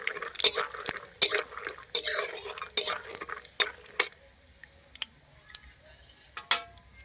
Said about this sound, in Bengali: দেখুন, বাদামটা আমি ভাজা ভাজা করে নিচ্ছি